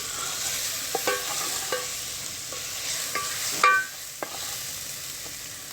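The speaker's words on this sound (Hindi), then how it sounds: "उसके बाद जो है वो मैंने अदरक लहसुन का जो पेस्ट है वो उसमें शामिल कर दूँगी और इसको जो है वो अच्छी तरह मैं 1 मिनट के लिए फ्राई कर लूँगी।" Ginger garlic paste fries in oil in a pan, giving a steady close sizzle throughout. A spoon stirs and scrapes against the pan now and then, producing sharp clinks, and no one speaks.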